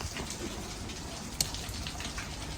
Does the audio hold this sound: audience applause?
no